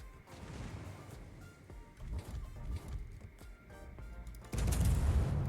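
Naval gunfire in a warship video game aboard the American cruiser USS Alaska, a series of muffled distant booms and rumbling impacts, ending in a louder sustained roar of shots.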